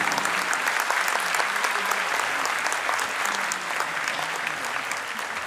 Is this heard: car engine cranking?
no